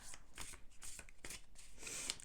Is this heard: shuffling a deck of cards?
yes